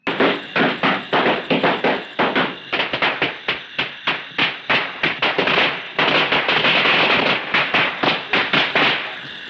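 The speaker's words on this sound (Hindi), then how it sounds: "ये क्या आप बच्चे छोड़े वैसे पटाखे छोड़े?" Firecrackers going off on Diwali in rapid, irregular bursts, dozens of sharp loud cracks and pops in close succession, continuous and intense throughout with no talking.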